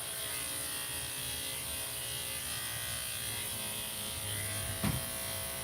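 Electric dog grooming clippers buzzing steadily on a small Yorkie Biewer, a continuous close high-pitched motor whine with a brief bump near the end.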